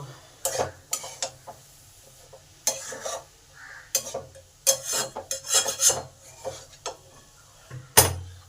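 A spoon stirring a vegetarian papaya and potato curry with chili powder in a pan, giving repeated scraping and rubbing strokes in uneven bursts, fairly close and clear, with no talking.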